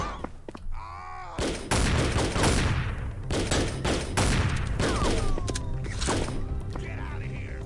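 Sniper gunfire in the shooting video game FBI Hostage Rescue comes as repeated sharp, loud bursts and volleys. Someone talks over and between the shots.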